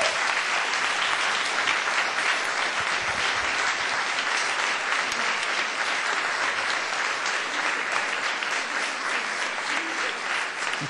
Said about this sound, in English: Save some of that applause